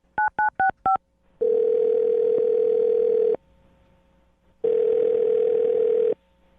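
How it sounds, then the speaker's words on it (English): Four quick telephone keypad tones beep in succession, followed by two long ringback tones separated by a pause, clear and close. "I'm going to dial her phone number right now and get her on the phone"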